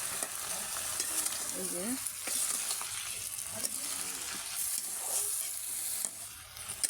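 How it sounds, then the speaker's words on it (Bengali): Fish and cauliflower sautéing in a pan give a steady, moderately quiet sizzle, with soft scraping as a spoon stirs them and a brief spoken word partway through. "দেখেন আমি কপি দিয়ে দিয়েছি, 3 মিনিট কষিয়ে নেব।"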